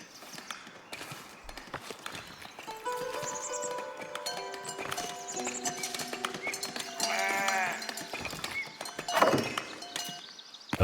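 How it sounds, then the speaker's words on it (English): Several sheep bleat in the medieval village-building game Foundation, overlapping wavering calls over a steady game backdrop with chimes and soft clip-clop-like ticks, no voices. "Another shepherd. 1, 2, 3, 4 sheep."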